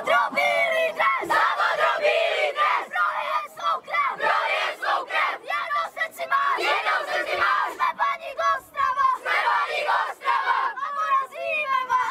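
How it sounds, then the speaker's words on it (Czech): Youth football team of FC Baník Ostrava shouting its battle-cry chant at a tournament in Modřice, a loud group of young voices yelling in rhythmic bursts for about twelve seconds. "Tak a válečný pokřik týmu FC Baník Ostrava."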